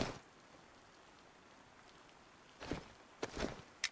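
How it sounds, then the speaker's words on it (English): Soft rain hisses steadily in the DayZ video game, then a few crisp footsteps land close by in the final second and a half. "The rain and the footsteps sound way like better."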